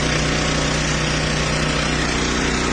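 A tanker truck engine runs in a steady, loud, close drone with an even low rumble throughout and no talking.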